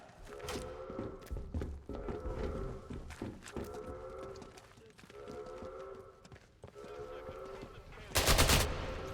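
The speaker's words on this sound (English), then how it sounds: "Why are you shooting me?" Rapid gunfire in the video game Atomfall, bursts of automatic shots running near continuously with a louder, denser volley near the end.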